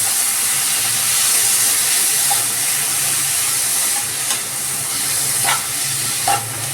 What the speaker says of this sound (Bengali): পেঁপেটা এখানে একটু ফ্রাই করে নেবো ঘিতে।